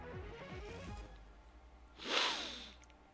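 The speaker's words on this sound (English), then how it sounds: "I'm having an allergy day, so there's some sniffling and some nose rubbing." A single short, breathy sniffle through a congested nose from someone with allergies, close and fairly loud, following a soft voiced murmur.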